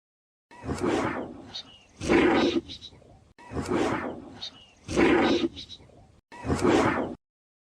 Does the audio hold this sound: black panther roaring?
yes